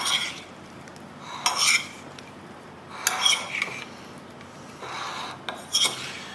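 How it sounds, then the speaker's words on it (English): A utensil stirs cucumber salad with oil in a bowl, giving four separate bursts of scraping and clinking against the dish with quiet pauses between them. "we're going to stir this up"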